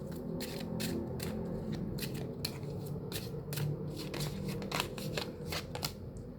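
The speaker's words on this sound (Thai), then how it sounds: "คือการสับไพ่เนี่ย เราก็ เราก็สับให้คุณเห็น แบบตรงไปตรงมานะ" Tarot cards shuffled by hand close up, a quick run of crisp riffling flutters and soft slaps repeating in rapid bursts, with no talking over them.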